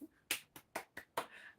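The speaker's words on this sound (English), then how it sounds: "Clapping myself, I don't know why." A lone person claps hands a few times, five sharp close claps in an uneven rhythm in a quiet room.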